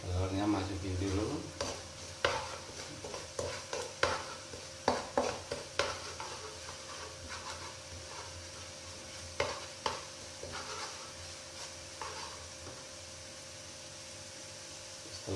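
Eggs frying in a pan are stirred with repeated scraping strokes, a soft steady sizzle running underneath the irregular clicks of the utensil, with a voice speaking now and then.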